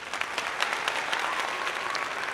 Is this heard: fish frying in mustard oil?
no